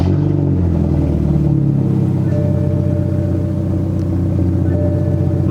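A BMW 328i with the N26 engine and a catless downpipe idles and revs loudly up close, a deep, throaty rumble that rises and settles in pitch, with no voices.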